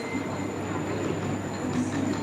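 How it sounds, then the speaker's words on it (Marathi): A Mumbai AC train rolls along with a steady, loud rumble and rail noise that stays even from start to finish, with no voices. "see this is Mumbai A C train"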